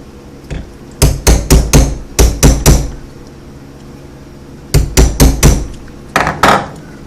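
A hammer strikes a socket set on a bent bolt head in quick bursts of three to four sharp metallic blows, with a pause between groups, loud and close.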